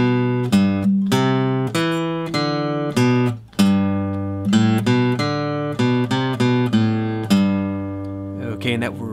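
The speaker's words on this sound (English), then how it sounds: "demonstrating the riff in its basic form, it's going to sound like this" An acoustic guitar plays a riff in its basic form, a clear run of plucked single notes and strummed chords at a steady beginner tempo, close and alone.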